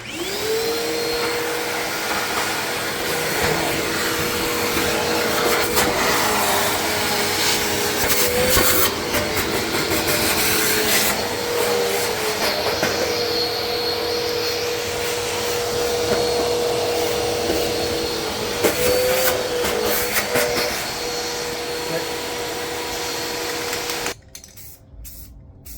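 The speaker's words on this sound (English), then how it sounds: "we're going to just run a vacuum and get it cleaned up first" A vacuum cleaner runs continuously at close range as it sucks up wood shavings, a loud steady whine with brief rattles and clatters from debris passing through, then it cuts off near the end.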